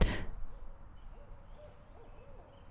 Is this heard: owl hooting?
yes